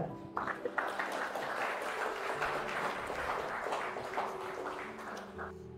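Church congregation applauding during an Indonesian sermon, a soft, somewhat distant wash of clapping that holds steady for several seconds.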